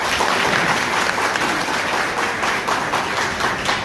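A gathered audience at a business-plan presentation claps loudly and continuously, a dense, close round of applause with sharper individual claps standing out, lasting several seconds without a break.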